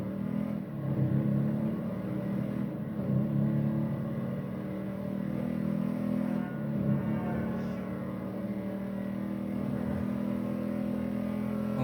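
A motorcycle engine revs and pulls hard under acceleration through a turn, a steady, close mechanical drone that swells slightly and holds for about twelve seconds without talk.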